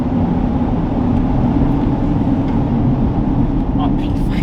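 A Lotus Eletre electric SUV accelerating hard, a steady loud rushing drone of road and wind noise that builds without pause, with a voice faintly present underneath.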